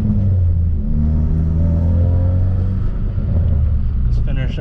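Interior engine drone of a 2017 Ford Focus RS cruising on the road, a steady loud low rumble with a faint whine and voices talking over it.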